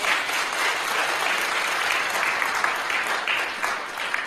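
Warm, continuous applause from an audience at a Seoul cultural talk and performance event, close and lively, with a brisk clatter of many hands and no speech over it.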